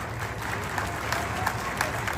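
An audience at a speech in Vijayawada claps in a sustained, dense round of applause, steady and fairly loud with scattered sharper claps standing out.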